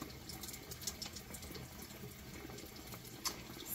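Tap water runs steadily into a sink while it is left to warm up, a constant moderate hiss and splash with no voices over it.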